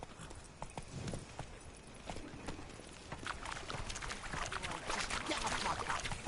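The horse Roach gallops in a video game, hoofbeats clip-clopping in a quick steady rhythm that grows louder and denser toward the end, with faint ambient background and no talk.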